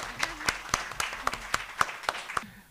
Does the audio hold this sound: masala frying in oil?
no